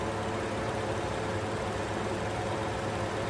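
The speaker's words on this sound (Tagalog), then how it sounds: "Nakita nyo mga boss, nang mag-aircon ako, lalong nanginig ang makina." A Toyota Vios engine idling roughly with the air conditioning switched on, a steady, dense mechanical drone with a faint uneven shake, continuous and close.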